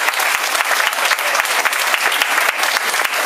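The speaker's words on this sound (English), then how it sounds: "Let's get a round of applause for all these folks." A school audience gives loud, crisp applause to the football, volleyball, girls basketball and baseball teams, with distinct individual claps standing out in a steady, lively round.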